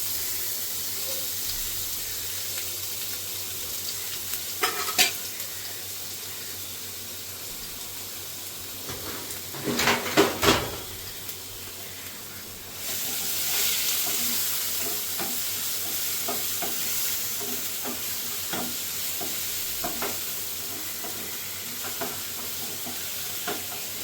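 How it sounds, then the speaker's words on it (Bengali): A generous amount of chopped garlic frying in oil for chili garlic chicken fried rice, a steady sizzle with stirring, a brief loud clatter midway and a louder burst of frying after, with no voices. "এটার মধ্যে দিয়ে দেবো আমি অনেকটা রসুন কুচি।"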